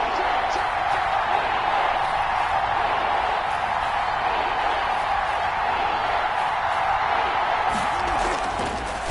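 Dense roar of a big football stadium crowd at a Cowboys game, a steady wall of cheering and noise that holds at the same level from start to finish with no break.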